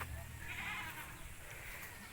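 Goats bleating at close range on a farm, the calls blending into a steady, noisy outdoor background with no clearly separate bursts.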